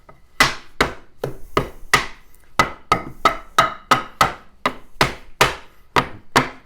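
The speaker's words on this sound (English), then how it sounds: "I want to put some divots in it with a nice sharp chisel" A sharp chisel is driven into wood to distress it, producing about fifteen crisp, loud knocks in a steady rhythm, each with a quick woody ring-off.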